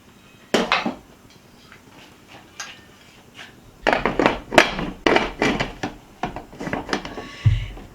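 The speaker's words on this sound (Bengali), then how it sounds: "জাস্ট নাড়িয়ে দেব, দিয়ে এটাকে আমি প্রেসার কুকারটাকে লক করে দেব।" Metal clanks and knocks against a pressure cooker as spices are stirred and the lid is fitted and locked, several sharp, close taps and scrapes in irregular clusters after a quieter opening.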